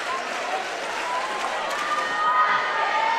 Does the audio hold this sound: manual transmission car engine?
no